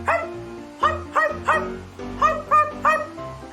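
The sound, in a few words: voice imitating a dog barking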